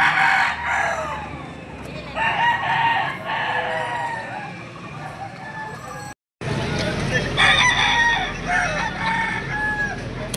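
A young rooster (stag) crows and clucks at a poultry market, several drawn-out crows and clucks close by amid market bustle and a talking man, with a brief dropout in the middle.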